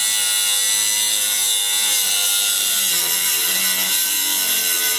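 A tool slices steadily through a base plate bracket during an invisible tow base plate installation on a 2022 Chevrolet Colorado, a continuous loud buzzing cut with a slight change in pitch partway through, and no voices.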